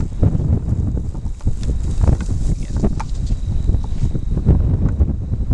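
Strong wind buffeting the microphone in an open grassy field, heavy low rumbling gusts, constant and loud, with faint rustling above; no talk.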